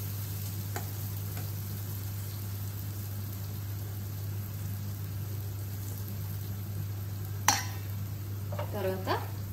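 Thati rotti roasting slowly in a pan on a low flame: a soft, constant sizzle under a steady stove hum, with a sharp metallic clink and a brief clatter of utensils near the end, no talking.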